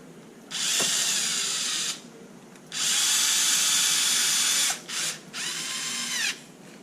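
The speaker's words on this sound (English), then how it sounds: "I'm gonna drill these in." A power drill whines in three long runs driving screws into a Traxxas Maxx RC truck, each starting and stopping abruptly, loud and close, with a brief stutter near the end as it drives in.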